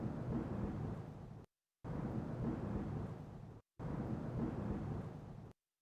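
Mountain wind ambience, a steady broadband rushing roar that plays in three long sustained bursts separated by brief silences, loud and continuous with no voices.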